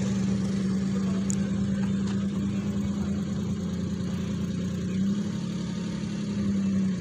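A car engine runs steadily while the car climbs a hill, a continuous low hum that holds at a constant pitch throughout, close and fairly loud with no talking.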